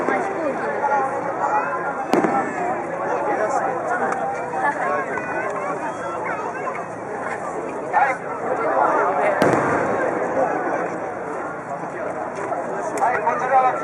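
Fireworks display at the Inagawa fireworks festival in 2011, with sharp distant bursts and crackles amid a busy crowd, people talking over them throughout and a few louder pops standing out.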